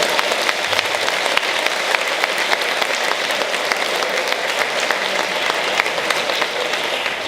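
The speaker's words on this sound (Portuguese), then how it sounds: "Você quer dar mais um aplauso para Jesus?" A church congregation claps together in a dense, sustained burst of applause that stays loud and even from start to finish, with no voices over it.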